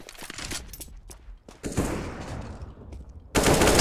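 Gunfire on the Counter-Strike map Dust2 during a triple kill: sharp rifle bursts and single shots in quick succession, some close and loud, with a heavy blast at the end.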